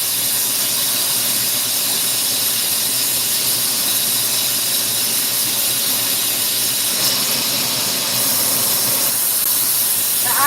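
Steady, loud broadband hiss of an oxygen-fed torch flame while a glass Sherlock pipe in red, white and blue is worked, continuous and unbroken with no talk.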